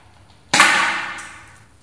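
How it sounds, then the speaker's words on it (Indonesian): One sudden, close metallic crack from the second test shot of a Black Mamba P377 air gun, followed by a bright ringing tail that fades over about a second. "Berikutnya tembakan yang kedua"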